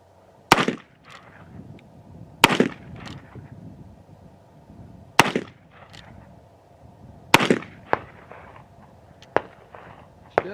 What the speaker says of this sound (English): we'll go ahead and we'll fire a few rounds and see what she does